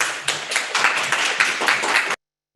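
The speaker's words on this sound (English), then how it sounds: "I didn't know we were allowed applause" At a virtual fireside chat with federal election candidates in the Sudbury riding, an audience bursts into brisk applause, dense and fairly loud, for about two seconds before it stops abruptly into silence.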